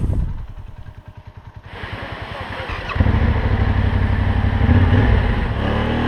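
A heavy offroad motorcycle engine chugs in low, uneven pulses in deep, soft sand in Albania, then revs harder and louder as it strains and labors continuously.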